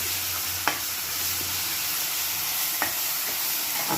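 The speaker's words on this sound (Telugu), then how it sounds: "ఒక స్పూను అల్లం ఒక స్పూన్ వెల్లుల్లి పేస్టు ఈ రెండు వేసి పచ్చివాసన పోయిన దాకా బాగా వేయించుకోవాలి" Ginger garlic paste frying in a pan, a dense continuous sizzle with two brief sharp scrapes of a spatula, loud and close, no speech.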